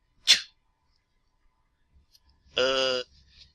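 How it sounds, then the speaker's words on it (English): A single short sneeze, then a brief high-pitched whine or squeak a couple of seconds later, otherwise near silence. "Rarity sneezed."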